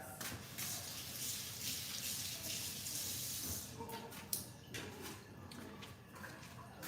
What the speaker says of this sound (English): Just gonna wash our hands.